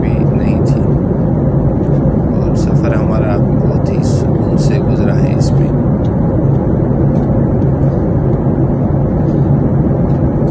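Steady, loud engine roar and rushing air fill the cabin of a Qatar Airways passenger jet descending toward Baku, Azerbaijan, with someone talking over the constant drone.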